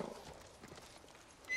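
Hooves of a piebald horse in the video game Ghost of Tsushima, a light, soft clip-clop at a walking pace. A faint whinny-like tone rises near the end.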